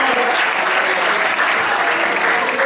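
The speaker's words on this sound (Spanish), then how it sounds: "Eso merece un aplauso fuerte a aquel que vive para siempre" Loud, continuous applause from a church congregation during a sermon, with many hands clapping in a steady, even wash that lasts the whole moment.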